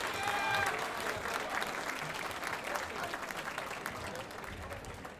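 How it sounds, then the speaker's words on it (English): Sustained applause from an audience at an Elks lodge celebration in Lawrence, Massachusetts, steady dense clapping filling the room for several seconds and tapering slightly toward the end. "We really need another round of applause for Mike Gorman."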